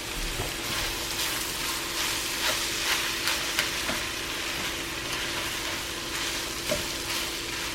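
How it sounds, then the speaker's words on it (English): A large batch of spinach wilts in a hot pan, giving off a dense, continuous sizzle and crackle at close range for several seconds with no talking. "And now for the magic of wilting spinach."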